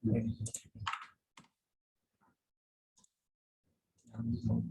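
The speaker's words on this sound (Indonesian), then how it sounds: "Adresnya diketik lagi adres bapak." A few soft, sparse keystrokes tap out an address on a computer keyboard, heard faintly in a quiet pause between stretches of a person talking.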